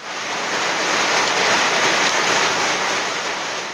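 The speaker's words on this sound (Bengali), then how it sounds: "উত্তরের আরেক জেলা লালমনির হাটেও হয়ে যায় দমকা হাওয়া সহ বৃষ্টি।" Rain driven by gusty wind in Lalmonirhat in northern Bangladesh during a hailstorm, heard as a dense, continuous rushing hiss that swells slightly in the middle and holds steady throughout.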